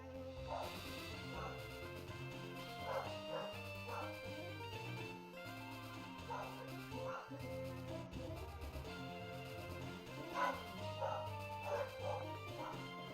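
Real dogs barking and yipping in a room behind Pokemon Fire Red game music, several bursts of barks scattered through the stretch, fairly faint under the steady chiptune melody.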